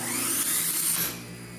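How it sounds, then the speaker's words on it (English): A rebuilt motor with new bearings from a 1908 Spencer Turbine central vacuum runs with a close, steady high-pitched whine and hum, then winds down and fades near the end. "Now reassembled with new bearings, you can hear how much quieter the motor is."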